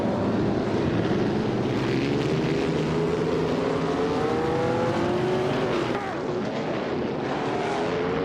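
Racing cars on a track, including a 1938 Maserati 8 CTF, a loud continuous engine roar with pitch rising and falling as cars pass, steady throughout under a commentator's voice.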